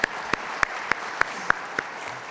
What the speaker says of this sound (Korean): 우리 박수 한번 하겠습니다.